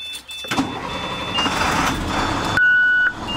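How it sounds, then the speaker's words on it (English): A bus engine cranks and catches, settling into a steady idle with a high warning beep sounding near the end, close and fairly loud. "Now I'm going to start the bus"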